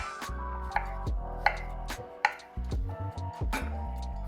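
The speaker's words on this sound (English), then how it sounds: "Just gonna slice them up and macerate them." Knife slicing through fresh strawberries on a cutting board, a handful of crisp, separate cuts at an uneven pace, close by, under steady background music.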